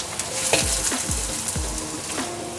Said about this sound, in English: I'm adding in my garlic now.